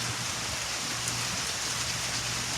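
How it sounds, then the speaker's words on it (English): Steady rain falls as a constant hiss of dense drops on surfaces, with no pauses and no clear voices. "The rain is going to be finished in 2 minutes."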